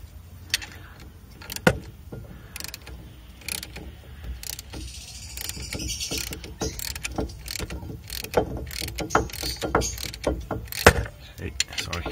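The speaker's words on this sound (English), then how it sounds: "So I'm gonna compress the piston." A homemade brake caliper tool pushes a piston back into its bore, producing scattered clicks, knocks and metallic ratcheting taps at close range with faint handling noise between them.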